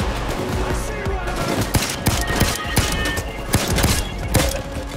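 Pistol fire from the heist game Payday 2 at the First World Bank, with sharp shots cracking irregularly through a dense, noisy firefight and game clamor.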